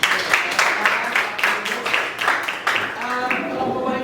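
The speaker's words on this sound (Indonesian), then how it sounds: "Kita tepuk tangan buat mereka dulu berarti ya." Audience applause for a presenting group in a teacher-training class, a dense run of clapping from many hands that fills the room for several seconds before tapering off near the end.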